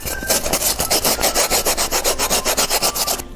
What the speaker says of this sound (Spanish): vamos a lijar igual con la misma lija del número 80